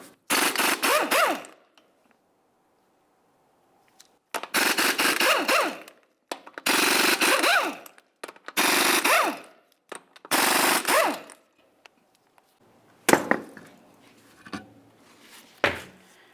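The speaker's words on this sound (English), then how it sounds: "continue on to removing each of your 5 21mm lug nuts and then the wheel" Five 21mm lug nuts being spun off the front wheel of a 1998-2002 Lincoln Navigator with a power tool, several loud, near bursts of rattling impact-gun noise separated by pauses, followed by a few clunks as the wheel comes off.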